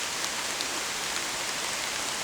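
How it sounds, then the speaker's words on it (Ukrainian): Steady rain falls in a forest, a dense, even hiss of drops with no other sounds or voices. "У нас пішов дощ"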